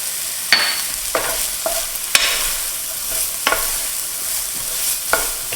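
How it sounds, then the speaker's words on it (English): Garlic and ginger stir-fry in a pan for a beef and broccoli dish, sizzling steadily and loudly while a utensil scrapes and knocks against the pan at irregular intervals. "the next thing we do is add the garlic and the ginger, and that should stay in there"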